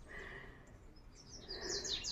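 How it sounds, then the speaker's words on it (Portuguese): Birds chirping outdoors on a rural farm, a few clear tweets and trills rising over quiet background, with a brighter cluster of calls near the end. "a festa dos pássaros"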